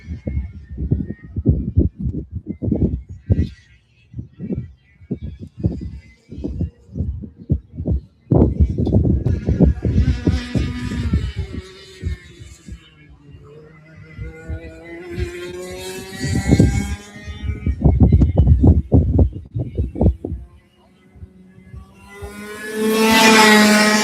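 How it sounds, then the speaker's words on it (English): Race car engines roar around a track, passing in loud rising and falling waves with rapid rhythmic engine pulses, one car screaming close by near the end. "Love hearing those engines out there."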